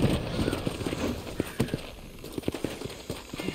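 A horse galloping in Red Dead Redemption on PS5: a steady stream of rapid, close clip-clopping hoofbeats over game ambience, with some talk underneath.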